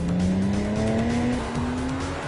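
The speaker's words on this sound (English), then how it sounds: "The engine sound is rich and distinctively Porsche." A Porsche Cayman engine revs and accelerates, a loud rising tone with a faint tyre squeal, heard from nearby and continuous across the short stretch.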